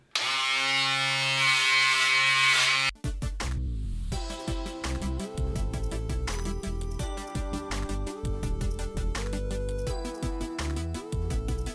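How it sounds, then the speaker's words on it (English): An electric hair trimmer buzzes loudly up close for about three seconds while tidying a low skin fade, then cuts off as music takes over. "what we're going to do is take that out with the trimmer very carefully"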